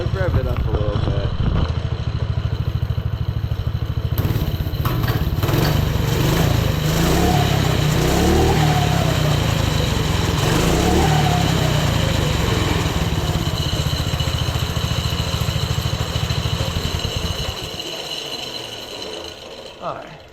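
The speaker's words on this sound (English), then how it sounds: "Let's rev it up a little bit." Small $100 budget minibike engine fitted with a 125cc ATV exhaust, running steadily with a buzzy, fairly quiet drone and slight revs for most of the clip, then dropping off near the end, with people talking over it.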